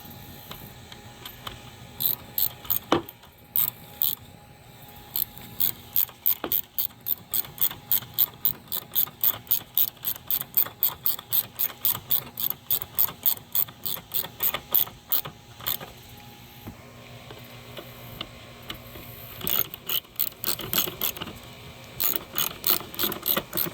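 A ratchet on an extension snugs a bolt on a 2014–2016 Kia Soul transmission. It makes long runs of crisp, evenly spaced clicks, close and distinct, with brief pauses between runs of strokes.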